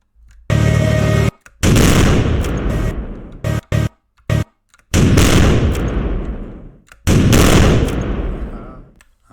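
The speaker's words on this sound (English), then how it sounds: "Find the sound. Explosion. And let's test this out." Loud explosion effects from a Unity VR tank video game burst out in four separate booming blasts, each hitting hard and then rumbling away into a decaying tail, with brief silences between them.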